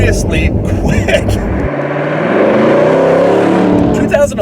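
A 2011 Mercedes SLS AMG sports car engine roars under hard acceleration, a loud close rising rev with a gear change, while a driver speaks over it.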